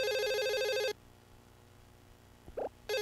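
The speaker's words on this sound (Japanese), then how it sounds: "電話だよ。" Telephone in the video game Another Code R rings with a loud, bright electronic trill, one burst, then a pause with a short faint tone, then the ring starts again; no voices.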